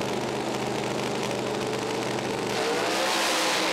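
Top Alcohol drag racing cars launch at the track, a loud, sustained engine roar that rises slightly in intensity toward the end.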